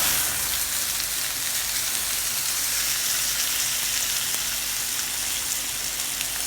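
Pork chop frying in a hot pan gives off a steady, dense, hissing sizzle, close and continuous throughout with no pauses or talk.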